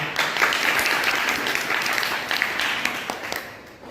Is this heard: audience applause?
yes